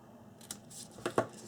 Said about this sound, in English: I'm just going to do a little bit of an angle cut so they're not sticking out